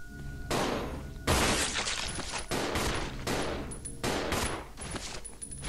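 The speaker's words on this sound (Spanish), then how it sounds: "qué bueno ese disparo" Rapid bursts of loud gunfire in Resident Evil 0 HD Remaster, fired at zombies, come in several volleys with brief gaps, sharp and harsh with a glassy, shattering edge.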